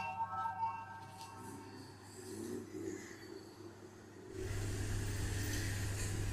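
Busy street traffic in Bangkok's Chinatown: engines hum and rev in a steady wash that swells louder about two-thirds of the way through.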